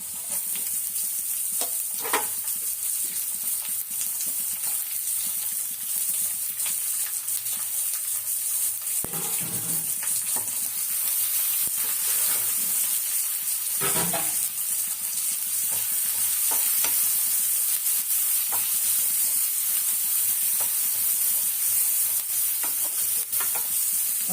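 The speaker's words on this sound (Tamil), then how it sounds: "கொஞ்சம் வெங்காயம் நல்லா வதங்கணும்." Onion and grated ginger sautéing in a pan, a continuous sizzle with occasional stirring clatters and scrapes, steady and close, no talking.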